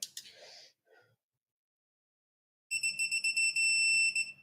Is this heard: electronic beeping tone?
yes